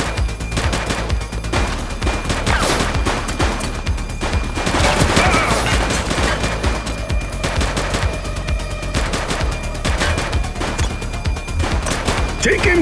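Dense gunfire in the police video game The Precinct, sustained rapid automatic shots layered into a loud continuous fusillade, with voices shouting intermittently amid the shooting.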